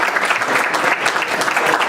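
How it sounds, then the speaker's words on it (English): Attendees of a county affordable housing subcommittee meeting applauding together, a dense, steady burst of clapping close by, brief and even throughout. "Let's give Rachel a round of applause."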